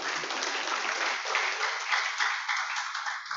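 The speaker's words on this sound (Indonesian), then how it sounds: "Mari kita beri tepuk tangan yang meriah untuk pemateri kita pada sesi ini." An audience at a university orientation session gives the speaker a lively round of applause, a dense, even patter of clapping that holds steady before tapering off near the end.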